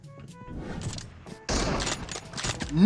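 Gunfire in the battle royale game PUBG Mobile, with scattered shots followed by a louder, denser burst midway and heavy firing at the close, amid game noise.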